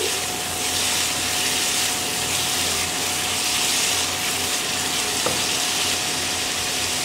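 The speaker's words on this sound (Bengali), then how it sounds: "এভাবে মশলাটাকে আমি আরও কিছুক্ষণ কষিয়ে নিচ্ছি।" Masala for egg korma frying steadily in hot oil, a dense continuous sizzle with faint stirring scrapes, close and loud throughout with no voices.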